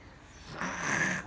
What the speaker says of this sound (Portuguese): Olha o barulho do ronco delas.